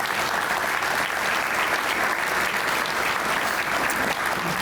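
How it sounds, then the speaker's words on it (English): A luncheon audience at a housing program event applauds its sponsors, a full, sustained round of clapping from a sizable crowd that stays steady and dense throughout. "Let's give everyone a round of applause again, please."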